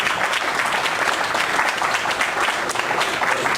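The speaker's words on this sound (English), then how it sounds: "let's give Charlie a big round of applause" Listeners give Charlie a big round of applause after a book review talk. The clapping is loud, dense and unbroken, with fast overlapping claps at a steady level throughout.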